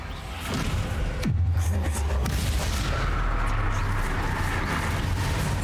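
Explosive Confringo blasting spell set off in Hogwarts Legacy, a loud booming burst followed by a long rumbling roar that fills the scene without a break.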